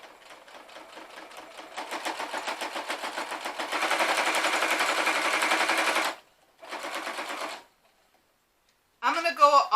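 A sewing machine stitching a junk journal tag, a rapid mechanical clatter that speeds up and grows louder over several seconds, stops, runs again briefly, then pauses before a final short burst, close by.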